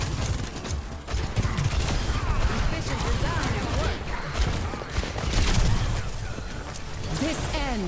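Dense, continuous gunfire and weapon effects from the Overwatch 2 video game during a ranked match, with rapid bursts, impacts and crashes layered throughout and voices talking over the action.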